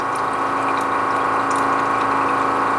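A countertop water dispenser offering hot, cold, regular and filtered water pours filtered water, with a steady pump hum and running water that stay level and close throughout.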